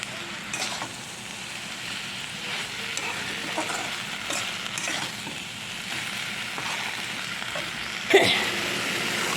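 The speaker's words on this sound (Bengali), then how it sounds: "জল দিয়ে ভালো করে কষিয়ে নিই দিয়ে দিলাম একটু লাল লঙ্কার গুঁড়ো সব দিয়ে ভালো করে কষাবো" A spice masala with added water and red chilli powder is stir-fried in a pan, a steady sizzle broken by repeated scraping stirs and a sharper utensil clack near the end.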